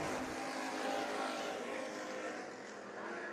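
Race cars lap Bakersfield Speedway in a Budweiser Nationals heat race, their engines a faint, steady distant roar that slowly fades slightly over a few seconds.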